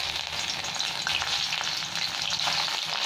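Cauliflower fries in hot mustard oil with a dense, even sizzle and crackle that stays steady and close, alongside light stirring and no voices.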